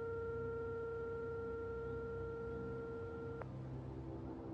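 A steady electronic phone tone sits over a low hum and then cuts off abruptly near the end, like a dead telephone line.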